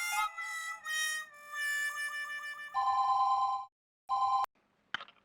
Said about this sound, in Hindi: अभी ये सब में आप टाइम मत बिगाड़ो मेहता साहब, आप जल्दी से ऑफिस में फोन करो और बोल दो आज आप नहीं आ पाएंगे